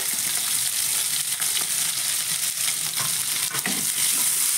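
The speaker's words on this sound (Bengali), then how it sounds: "পেঁয়াজটাকে আমি হালকা করে ভেজে নেব।" Sliced onion fries in oil with kalonji seeds in a pan for a mustard okra dish, giving a dense, close sizzle with intermittent stirring scrapes throughout.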